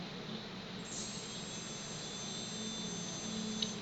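Small multirotor brushless motor whirring steadily as it spins up during CC3D flight controller setup, a constant high-pitched hum held at even loudness, close and alone with no voices.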